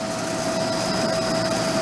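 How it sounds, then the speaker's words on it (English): The compressor of a junked Harmon pellet stove runs just after kicking on, giving a steady, even mechanical hum with a faint whine that stays constant and fairly loud throughout. "Compressor just kicked on."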